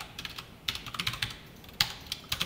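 Code is typed on a computer keyboard in quick, irregular bursts of crisp key clicks with short pauses, close and fairly quiet, with no voices.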